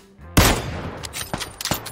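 Gunfire in the battle royale game PUBG: a loud, sharp shot bursts out, followed by several quicker, lighter cracks trailing off over the next second and a half, with no one talking.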